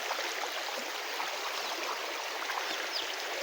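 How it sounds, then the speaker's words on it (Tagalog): Flood water running steadily through a flooded home garden, a continuous soft rushing and trickling flow with no breaks, fairly faint and even throughout. "Sis, grabe ang baha."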